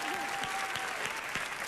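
A comedy show audience claps through a short stretch of steady, dense applause, with a few sharper hand claps near the front and a faint voice briefly over it.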